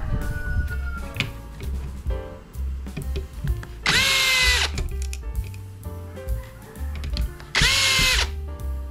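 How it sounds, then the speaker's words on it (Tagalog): Handheld power drill running in short bursts, two loud high whirring spells of about a second each between quieter clicks and handling noises, close up with no talking. "Katapot naman itong drill natin."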